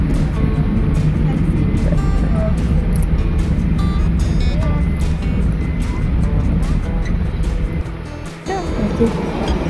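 A car on a road, with the father at the wheel, gives a loud continuous engine and road rumble from inside the cabin that dips briefly near the end, under occasional voices.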